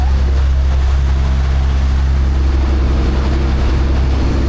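A boat on a Bangkok river tows a small boat behind it, giving a steady low engine drone with water wash, continuous and fairly close, with no voices.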